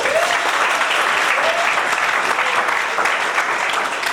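Guests at a civil wedding ceremony in a town hall clap together in a steady, moderately loud round of applause that holds without pause.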